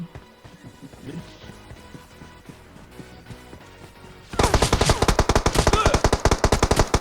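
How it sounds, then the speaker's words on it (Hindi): M4 rifle fire in a battle royale video game: after a quieter stretch with scattered shots, loud rapid automatic bursts start partway through and continue as a dense, evenly spaced rattle. "वो फिर से मुझे M4 से बदल के मतलब फायर देता है"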